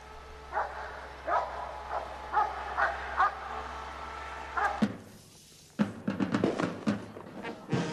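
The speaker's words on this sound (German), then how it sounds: "3 Laufanlagen mit 34 angeseilten Hunden" Several leashed dogs in runs along a border fence bark in short repeated bursts, yips and whimpers, at moderate distance over a low steady hum.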